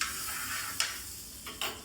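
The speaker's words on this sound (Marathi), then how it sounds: "तव्यावरती थोडंसं बटर लावून घेऊया." Butter sizzles on a hot tawa griddle pan while a homemade pizza is being made: a soft, steady hiss with a few brief scraping touches, close by and with no talking.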